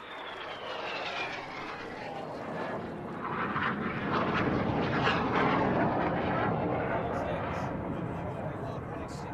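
Aerobatic Synchro display aircraft fly a carousel manoeuvre, their engines swelling into a steady, fairly distant roar that peaks midway, with a commentator's voice running over the noise.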